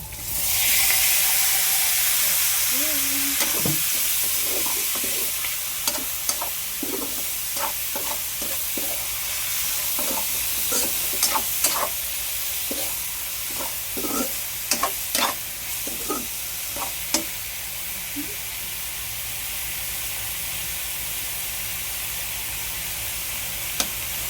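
Shrimp frying with onion and garlic in a hot pan, a steady loud sizzle throughout with repeated sharp scrapes and clatters of stirring, close up, no talking.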